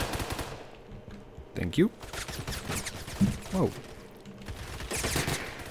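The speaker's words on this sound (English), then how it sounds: "Who's shooting at me? Don't you shoot at me." Automatic gunfire in the Roblox game Phantom Forces, several short bursts scattered through the clip while a player talks over them.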